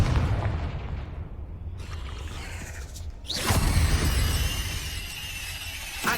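A Confringo fire spell explosion in Hogwarts Legacy, a loud booming burst with a bright crackling blast that lingers, set against continuous low game rumble and earlier whooshing effects.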